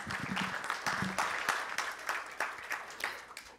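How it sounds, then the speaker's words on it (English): Conference audience applauding a speaker introduced for an OpenSIPS 3.0 talk at ClueCon, a moderately loud, dense patter of clapping that holds steady for several seconds with a few low voice murmurs early on. "Give a round of applause to Razvan."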